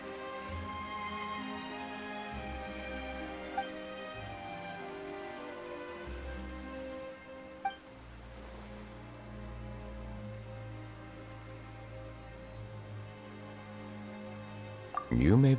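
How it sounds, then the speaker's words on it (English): Rain falls in the video game Genshin Impact, a steady patter on surfaces under sustained tonal music, with a few sharper sounds toward the end. "Why is it raining all of a sudden?"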